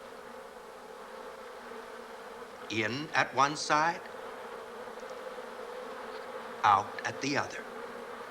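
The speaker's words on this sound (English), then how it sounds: "Vigorous fanning of the wings produces currents of air which evaporate the water, causing the temperature to go down." Honeybees fan their wings inside the hive, a steady close buzzing drone that runs throughout while someone narrates over it in two short bursts.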